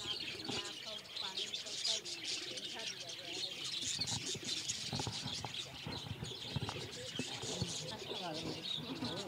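Birds chirp, tweet and coo steadily in a bird shelter at an ashram, a dense close chorus of small calls with people talking over it.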